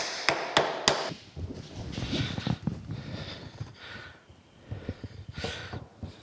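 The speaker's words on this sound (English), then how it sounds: "Get a hammer, tap that down in there." Hammer tapping a key down into a reducing shaft during a metal planer restoration, three sharp close metallic taps at the start followed by softer knocks, shuffling and handling noises.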